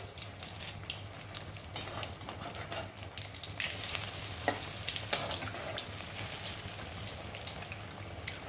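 Semolina malpua batter frying in hot white oil in a wok, a steady close sizzle with soft crackling and occasional louder spatters, no talking.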